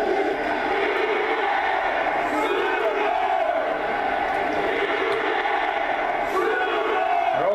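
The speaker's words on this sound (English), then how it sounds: "Crowds in Europe." A large crowd of football fans chanting in a European stadium, a dense continuous wall of voices with rhythmic coordinated swells, loud and unbroken throughout.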